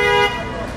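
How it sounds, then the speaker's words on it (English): Busy street traffic at a tunnel in Atlanta's Krog Street art district, with a car horn blaring loudly for a moment before the steady traffic hum carries on. "That's a lot of traffic though, so y'all probably won't be able to hear."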